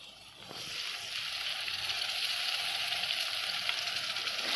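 Ginger-garlic paste for pav bhaji fries in a hot pan with a loud, even sizzle that swells after a short, quieter start and then holds steady, close up, with no voices.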